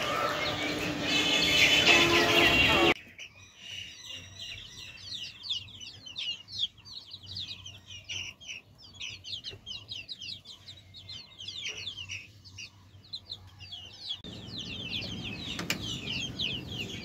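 Baby chickens kept indoors peep in quick, high, repeated chirps, many overlapping calls from close by, with a louder noisy burst at the start and some background hum.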